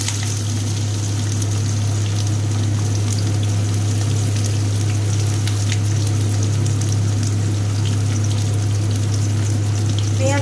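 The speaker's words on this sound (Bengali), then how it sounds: "পেঁয়াজটাকে দিয়ে ভালো করে ভেজে নেব।" Chopped onion with bay leaf hits hot oil and melted sugar in a pan, giving a steady, even sizzle that runs without a break, with a low constant hum underneath and no talking.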